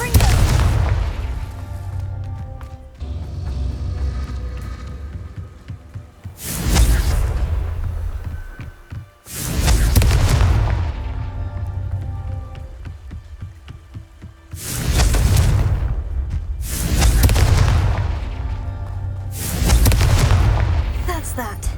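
Confringo fire spells detonate in Hogwarts Legacy as a series of heavy booming blasts, roughly six loud bursts spaced a few seconds apart, each with a deep rumbling low end and a decaying tail over a continuous game soundscape.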